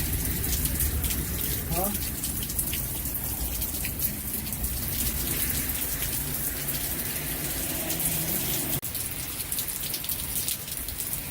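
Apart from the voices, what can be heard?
rain falling during a storm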